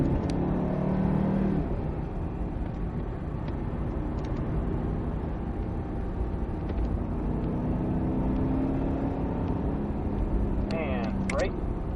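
A Cadillac CTS-V Coupe's engine pulls hard out of a corner at Circuit of the Americas, a steady droning roar from inside the car that rises near the end, with a voice talking over it.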